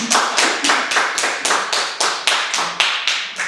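Church congregation clapping in unison to cheer someone on: about a dozen sharp, evenly spaced claps in a steady rhythm, fairly close and clear with no talk over them.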